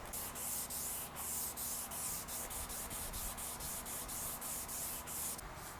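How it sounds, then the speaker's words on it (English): A guitar fretboard is polished with a 1000 grit pad, making a loud, rhythmic scrubbing hiss as the pad rubs back and forth in quick regular strokes, with no voices. "we just want to polish this fretboard till we get a nice shine going on. I'm going to go to 1000 grit"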